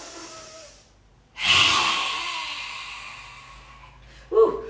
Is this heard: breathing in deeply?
yes